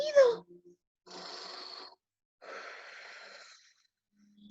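A narrator imitates snoring in a Spanish children's story about a farm of sleeping animals: three slow, raspy, breathy snores spaced through quiet, each lasting about a second, with short voiced sounds at the start and end.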